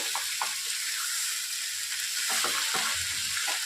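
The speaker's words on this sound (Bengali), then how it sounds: "সব মশলাগুলোর সাথে আদাটাও ভাজা ভাজা মতো হয়ে আসছে" Spices and ginger frying in a pan for a vegetarian cabbage curry, a dense continuous sizzle with soft scraping stirs of a spoon underneath.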